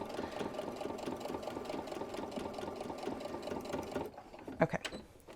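A sewing machine stitches apron fabric in a fast, steady mechanical whir of rapid needle strokes, then stops near the end and a few faint handling knocks follow.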